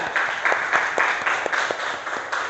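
A fifth-grade class claps together in a classroom, a brief burst of rhythmic, slightly uneven hand claps from many children, fairly loud and close.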